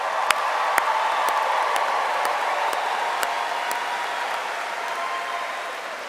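Audience applause at a graduation ceremony, a steady wash of many hands clapping that holds through the whole stretch and slowly tapers, with a few sharper individual claps standing out.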